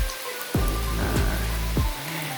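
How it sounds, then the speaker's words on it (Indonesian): Rain falls steadily on an oil palm plantation during harvest, a continuous close wash of drops with a few low thuds and rumbles mixed in, no voices. "ini kebetulan disambut sama hujan guys"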